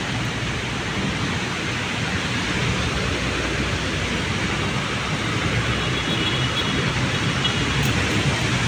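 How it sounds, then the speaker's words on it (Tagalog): Floodwater overflows a flood control channel in a steady, dense rushing roar of heavy water, constant and loud without pause. "Hindi kinaya po ng flood control mga kagrus, yan, oh. Uy, umapaw."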